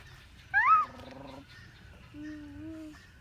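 An emu gives a short harsh call followed by a lower, drawn-out growling rumble, fairly faint with quiet background.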